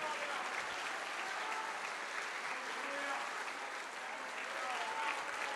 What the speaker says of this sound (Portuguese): Vamos aplaudir, vamos aplaudir.